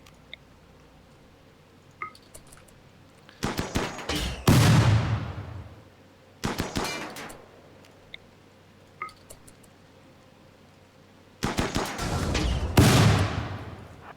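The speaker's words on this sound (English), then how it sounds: "have Shane shoot" Gunfire from colonists in the RimWorld video game sounds as clusters of sharp rapid shots followed by booming, decaying impacts, three separate volleys spaced several seconds apart.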